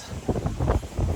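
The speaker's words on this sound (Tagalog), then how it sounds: "Lakas ng hangin, may bagyo dito sa Boracay." Strong wind buffets the microphone during a typhoon at a Boracay beachfront, with gusting low rumbles and bursts of noise throughout the short stretch, no voices heard.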